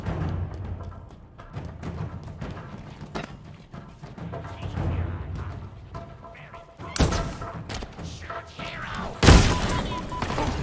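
Explosions in the video game Halo Infinite, a couple of sharp booming blasts cutting through a busy, low-level mix of game combat noise, with a player talking in between.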